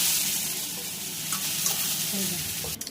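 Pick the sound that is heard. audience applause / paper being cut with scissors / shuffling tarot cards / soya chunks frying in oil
soya chunks frying in oil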